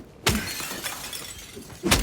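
Glass being smashed in the video game Silent Hill 2 Remake, two sharp, loud breaking crashes about a second and a half apart, with faint debris rattling between them.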